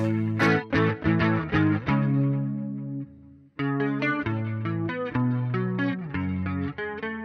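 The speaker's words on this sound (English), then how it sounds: "Now let's try the neck pickup as well" Electric guitar on the neck pickup, played through a Quad Cortex with a compressed 80s clean tone: warm, rounded chords and arpeggiated notes with chorus and echo, loud and close, with a brief pause midway.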